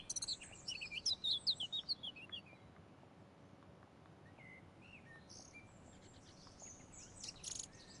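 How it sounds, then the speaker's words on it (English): Birds chirp in a peaceful garden in the video game Vera Blanc: Full Moon, a burst of quick high tweets in the first two seconds, then sparse distant calls over a steady insect and cricket hum, with a brief chirp near the end. "Dear birds, do you count as music?"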